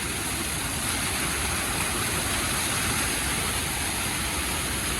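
Steady rushing water flows continuously at the Chithirai Chavadi check dam near Coimbatore, a broad close wash of noise with no voices over it.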